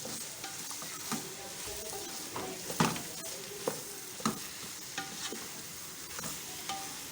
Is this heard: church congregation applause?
no